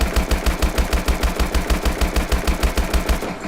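HBRa3 rifle fitted with the Lead Launcher in Call of Duty Advanced Warfare fires a loud, sustained automatic burst at about 500 rounds per minute, evenly spaced heavy shots for roughly three seconds before stopping.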